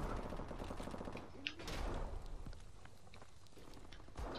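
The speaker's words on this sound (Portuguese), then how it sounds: "Estão tentando atirar em mim." Gunfire crackles through a firefight in Call of Duty: Advanced Warfare, with rapid shots and a few sharper bursts over a constant busy game mix.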